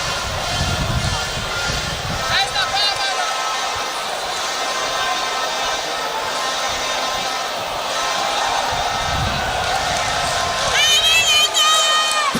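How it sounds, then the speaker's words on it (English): An excited crowd at a boxing fight keeps up a loud, continuous roar and cheer, rising toward the end, while a commentator talks over it. "The crowd is really excited."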